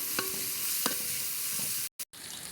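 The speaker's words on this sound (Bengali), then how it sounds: "একটু রসুন থেতো করে দিয়ে দিলাম, একটু পেঁয়াজ দিয়ে দিলাম" Crushed garlic and onion fry in hot oil with a dense, bright sizzle, broken by a couple of soft stirring knocks and two brief cutouts near the end.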